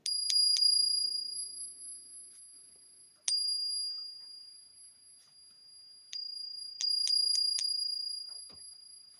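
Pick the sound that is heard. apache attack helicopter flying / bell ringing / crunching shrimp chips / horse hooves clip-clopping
bell ringing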